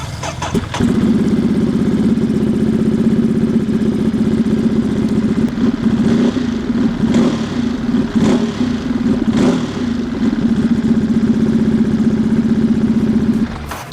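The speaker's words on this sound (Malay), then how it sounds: "saya belanjakan sikit bunyi motor Monster 937 ni macam mana" A Ducati Monster 937 motorcycle engine idles steadily and loudly nearby, its deep even rumble holding for several seconds with occasional slight blips in the throttle.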